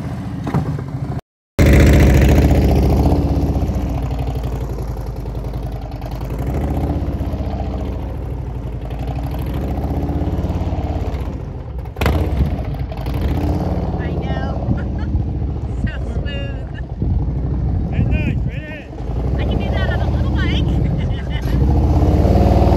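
Motorcycle ridden at slow speed through practice maneuvers, its engine a steady low rumble close by with small throttle shifts, while a rider talks over it almost throughout.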